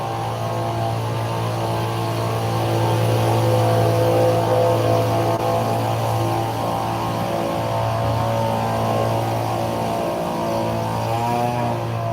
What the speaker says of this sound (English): Looks like lawn maintenance is starting.